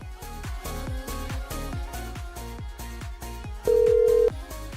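A telephone call in progress gives a rapid run of repeated electronic tones, then a brief steady tone near the end, all fairly loud and with no talking.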